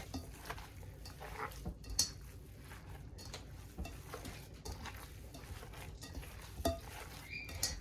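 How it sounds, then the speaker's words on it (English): Ground beef and pork being mixed by hand in a bowl gives a steady, soft squelching and stirring texture, close and moderately quiet, with a few sharper clicks along the way. "I am mixing just the beef and pork with my"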